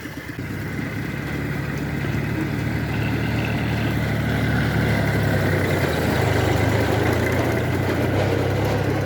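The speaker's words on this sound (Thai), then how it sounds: "หลังจากติด ติดเครื่องสูบน้ำเรียบร้อยแล้วครับ" Water pump engine running steadily in a rice field during the dry-season crop, a continuous loud droning chug that holds an even throb throughout with no talk.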